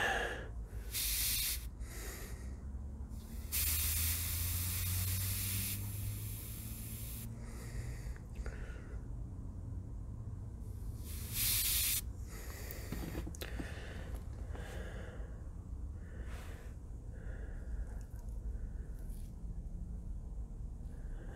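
An airbrush misbehaving while spraying paint on a mummy bust gives off irregular bursts of breathy hiss, some long and some short, separated by quieter gaps, close and moderately loud.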